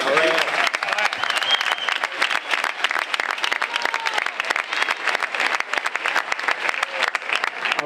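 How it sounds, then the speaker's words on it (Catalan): A crowd at El Vendrell's celebration of the roller hockey Copa del Rei claps loudly and continuously, a dense, steady patter of many hands with sharp individual claps sticking out throughout. "Per vosaltres un aplaudiment de part nostra."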